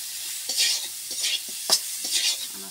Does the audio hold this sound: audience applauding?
no